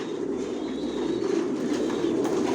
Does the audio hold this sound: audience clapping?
no